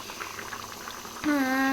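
White chicken korma with yogurt bubbles and sizzles in a pan over a high flame, a soft, steady simmer that turns louder and fiercer after about a second, with a thin whistling tone on top.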